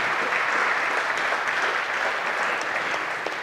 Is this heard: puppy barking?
no